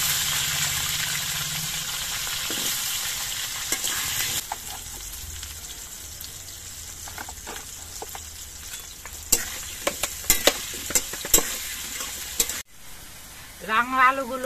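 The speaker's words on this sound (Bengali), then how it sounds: "এবার রাঙা আলুগুলো ভেজে নিচ্ছি।" Sweet potato pieces fry in hot oil in a pan, a continuous hissing sizzle that is louder at first, then a spatula stirs with several sharp scraping clacks toward the end, close by.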